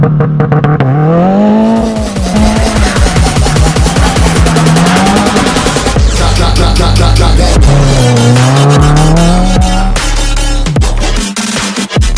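A 2016 Subaru WRX revs hard while drifting in snow, its engine note rising and falling in loud, continuous sweeps with bursts of throttle and deep rumbling throughout, no talking.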